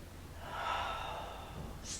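A single slow, deep breath drawn in and let out while holding a stretch for lower back pain, soft and close with no talking.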